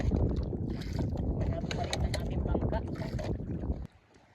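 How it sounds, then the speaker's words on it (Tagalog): Strong wind and waves buffet a small fishing boat at sea, a loud, continuous roar of gusting air and rushing water close to the microphone that cuts off abruptly near the end. "lumakas na ang hangin at alon"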